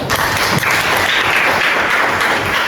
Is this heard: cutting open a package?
no